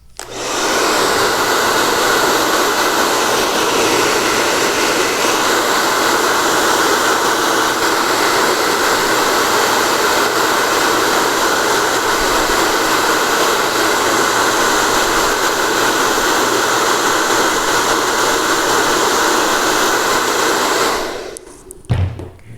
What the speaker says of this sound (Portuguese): agora eu vou usar o secador apenas para agilizar o processo aqui